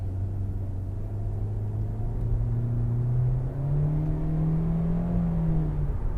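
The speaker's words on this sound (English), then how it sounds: "You can go to sport if I want to feel a little sporty. And we step on it in sport." A 2021 Hyundai Elantra accelerating hard in sport mode, a steady engine drone climbing in pitch, dropping briefly at a gear change, then rising again, heard from inside the cabin.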